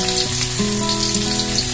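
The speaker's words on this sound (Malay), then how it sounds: "Apabila minyak pun dah panas, masukkan terlebih dahulu bahan yang kita telah iris halus tadi." Sliced shallots, garlic and ginger sizzle in hot oil, a steady close frying hiss with faint stirring and no voices.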